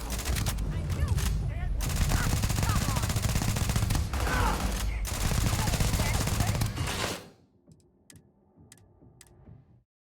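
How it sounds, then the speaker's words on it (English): Rapid sci-fi gunfire in Starfield, loud and dense bursts repeating for several seconds, then cutting off sharply into a near-quiet stretch with only faint scattered clicks. "You're shooting at ghosts now."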